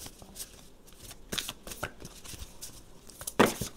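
Tarot cards being cut and shuffled by hand, a steady close riffle of papery slaps and rustles with brief louder flicks, no talking.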